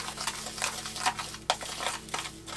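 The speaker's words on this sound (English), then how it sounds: "Now I'm going to mix all these together." A spoon scrapes and stirs turkey croquette ingredients together in a bowl, giving soft, irregular squelches and clicks at close range, fairly quiet, with no one talking.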